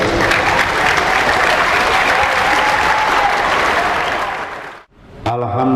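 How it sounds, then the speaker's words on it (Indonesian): Audience at a school religious gathering (tabligh akbar) claps together in sustained, dense applause that fades out near the end before a voice speaks briefly over a microphone. "Tepuk tangan untuk orang tua kalian."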